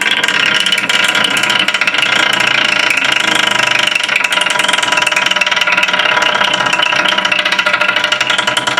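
The Wheel of Wisdom spins with a rapid, unbroken run of loud mechanical ratcheting clicks that keeps a steady rhythm for several seconds, with no voices.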